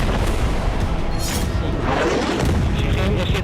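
Heavy aerial bombardment over Gaza, with dense, continuous rumbling booms and blasts filling the whole stretch and a sharper crack rising near the start.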